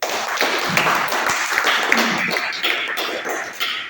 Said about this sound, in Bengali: Malaysian all diamonds, Malaysia all leaders, তাদের জন্য আমরা একটু জোরে করতালি দিই।